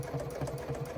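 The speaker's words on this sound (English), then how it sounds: "we are going to sew around the entire outside" A sewing machine runs a long stitch around the outside of a fabric phone case body, giving a steady rapid mechanical whir with a regular pulsing rhythm, close and alone.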